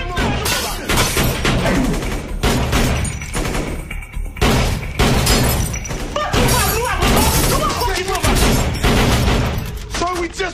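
A shootout scene from the action film Bad Boys II erupts in dense, rapid gunfire with crashing impacts, the volleys loud and nearly unbroken throughout.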